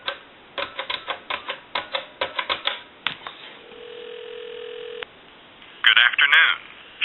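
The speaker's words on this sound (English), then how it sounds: "what we can do is give you some dial tone, and I'll call time and temp one more time" Dial tone hums steadily from a green Western Electric 2500 desk telephone after several bursts of rotary-like pulse clicks and tones, with a ringback or announcement starting near the end; close and clear, no talk.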